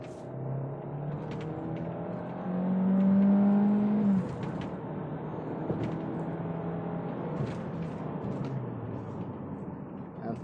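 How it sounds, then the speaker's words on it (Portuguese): A 2021 Hyundai ix35 accelerating hard on the road, heard from inside the cabin as a steady engine drone with a swelling rise in revs partway through, under road and tyre noise. "vamos dar uma esticada aqui, vou cravar o pé"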